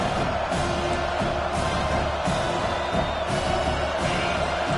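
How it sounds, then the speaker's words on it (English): Stadium crowd in the College Football 25 video game, a loud continuous roar that swells and pulses steadily with no letup. "The roar of the crowd trying to fuel this defense to keep them pinned in their own end."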